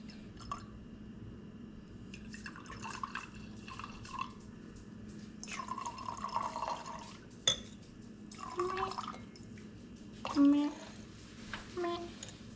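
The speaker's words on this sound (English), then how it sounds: "I feel like this was a big pour for that little bottle" Sparkling wine poured from a small bottle into a glass, with intermittent fizzing, trickling and liquid drips, and faint clinks, coming in short bursts over a quiet background while people talk.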